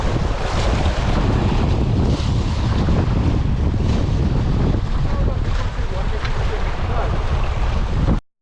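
Strong wind buffets the microphone at the shore of the Tbilisi Sea, a loud, constant roar and rumble with faint water and surf beneath, ending abruptly.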